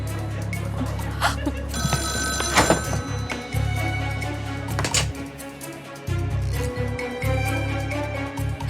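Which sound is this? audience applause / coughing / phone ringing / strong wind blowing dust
phone ringing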